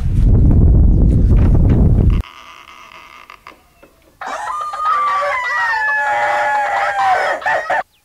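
Chickens cluck loudly up close, followed by a quieter pause and then a sustained rooster crow with more fowl calls.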